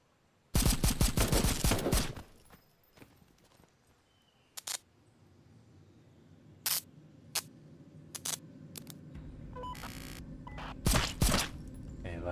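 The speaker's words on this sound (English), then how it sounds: "Gunshots?" Gunshots in the video game Kinki Spiritual Affairs Bureau: a loud, dense volley of rapid shots, then scattered single sharp cracks spaced over a low, steady ambient rumble.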